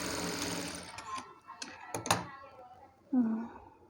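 A voice talks over a home sewing machine stitching a blouse, then the machine runs in one short, close burst of rapid stitching near the end.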